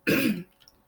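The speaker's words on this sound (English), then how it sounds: "I apologize for the coughing" A single short, harsh cough from a person with bronchitis, close and clear, followed by quiet.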